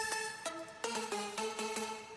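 Quiet synthesizer pulses strike in an uneven rhythm, each a short bright hit with a tonal note underneath, some notes stepping down in pitch.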